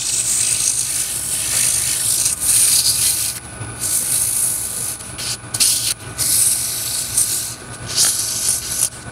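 Sandpaper rubs against a spinning wooden piece on a lathe, giving a close, steady hissing scrape with brief pauses and shifts in pressure. No one speaks.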